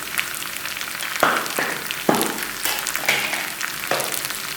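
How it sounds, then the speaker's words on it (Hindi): A tadka of hot oil with lemon pickle and finely chopped ginger sizzles and crackles close up, with sharp bursts of frying as pieces hit the oil several times over a steady hiss, no voices. "लो, जो हमारा तड़का तैयार हो गया है।"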